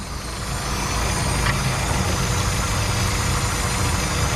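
A 1999 Mazda Miata fitted with an aftermarket cold air intake idles in a steady, even low rumble, close and loud, running unbroken with no talking.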